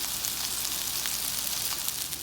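Meatballs fry in a hot pan with a steady, close, bright sizzle and scattered small crackles and pops, no talking.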